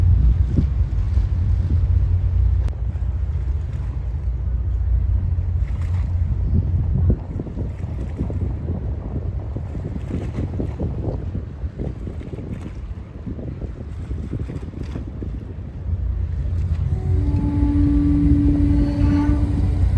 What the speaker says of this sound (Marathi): मांडवा जेटी पोचलेलो आहे आपण. आता इथे कशा प्रकारे पार्क होते ते बघूया आपण.